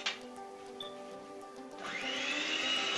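An electric hand mixer whirs steadily while beating an egg into butter and sugar for a pineapple upside-down cake, and the motor tone rises and brightens partway through as the beaters bite harder into the batter.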